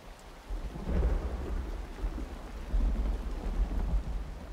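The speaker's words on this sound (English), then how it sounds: "it's starting to rain" Steady rain with rolling thunder in the online exploration game Myst Online: Uru Live, a continuous low rumble swelling in two heavy surges over the downpour, with no talking.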